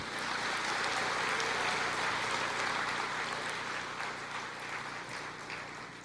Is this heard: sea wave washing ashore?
no